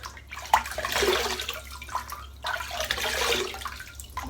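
Water splashing as a man wets his face at a basin before shaving: two bursts of running, splashing water, close and moderately loud, separated by a brief pause, with no voices.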